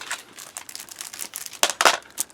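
Plastic bags used to hold game manuals crinkle close by in short, uneven bursts, the rustling growing louder toward the end.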